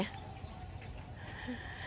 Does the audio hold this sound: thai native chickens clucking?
yes